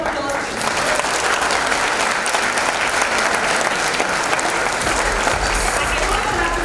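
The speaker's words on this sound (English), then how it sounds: "big round of applause" A large summit audience breaks into loud, sustained applause for a filmmaker, the thick wash of clapping holding steady with a low hum of crowd voices underneath.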